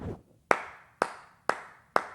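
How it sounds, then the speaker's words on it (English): Four sharp, evenly spaced hand claps ring out alone at about half-second intervals, each crisp and close with a short decay, following a brief stretch of near silence. "clap your hands for your boy"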